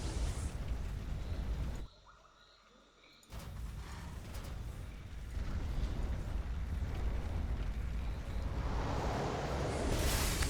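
Explosive Reaver shots from a StarCraft Evolution mod match, a dense roaring wash of impacts and rumble that drops briefly to near silence before resuming loud and continuous.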